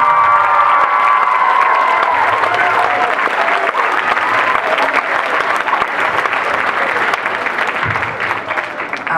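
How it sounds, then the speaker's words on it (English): A school talent show audience claps loudly and steadily throughout, a dense roar of applause with some cheering and a few children's shouts mixed in. "I'd just like us all to clap all of the acts"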